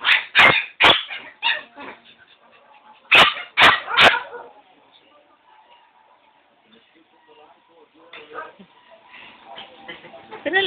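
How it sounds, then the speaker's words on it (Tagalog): A dog gives several loud, close barks in quick bursts, then falls mostly quiet for a few seconds before more yips and whimpers return, with people talking around it. "Laki ng boses din ang aso na ito."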